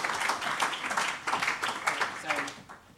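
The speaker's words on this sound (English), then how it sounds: "A round of applause for" Audience applause following a talk on mentoring for startup entrepreneurs, with clapping pulsing along for three seconds while someone speaks over it.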